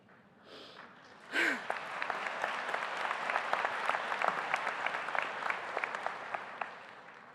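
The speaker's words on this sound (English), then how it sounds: "you clap before my punchline" Applause from a university convocation audience breaks out after a brief pause and continues steadily, a dense patter of many hands clapping, with a short vocal sound just before it.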